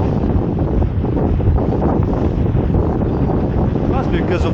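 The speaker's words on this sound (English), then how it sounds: "That's because of the wind." Strong wind at the seaside buffets the microphone in a loud, continuous roar, with waves mixed into the rush and a person speaking briefly near the end.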